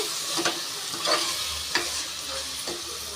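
Masala for mushroom biryani is stirred in a pan, giving a steady sizzle broken by four or five scraping strokes of the spoon, close and moderately quiet, with no speech.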